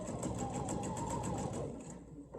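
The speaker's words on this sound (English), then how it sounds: "if your sewing machine doesn't have a tacking stitch, just use a back stitch" Home sewing machine running a short burst of reverse tacking stitches, a steady rapid mechanical chatter close by that stops abruptly near the end.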